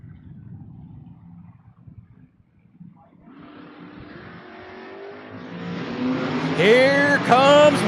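Drag race between a Ford Mustang and a third-generation Camaro at a strip: a low engine rumble idles, then swells into loud accelerating engine roar with rising revs building toward the end, as an announcer talks over it.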